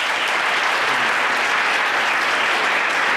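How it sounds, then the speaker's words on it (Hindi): An audience at a Women's Day gathering breaks into loud, sustained applause, a thick unbroken wash of many hands clapping at close range. "तो एक बार ज़ोरदार ताली।"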